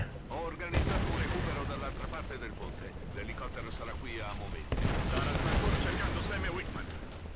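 Loud booming explosions and rattling gunfire from the video game Tomb Raider, with two heavy blasts standing out amid continuous noisy combat and a voice talking over it.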